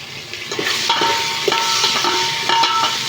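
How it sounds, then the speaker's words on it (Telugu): Curry leaves and onion crackle and sizzle in hot oil, a close, loud hiss broken by sharp pops and spatters throughout, with no talking. "తర్వాత ఇందులో కరివేపాకు వేసుకుందాము"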